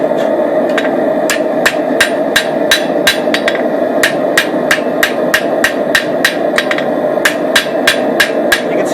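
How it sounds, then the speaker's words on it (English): A hammer strikes metal over the edge of an anvil during forging, in a loud, rapid and steady run of ringing blows heard up close over a constant background hum. "The other one is by putting it over the edge of the anvil like this and hitting it"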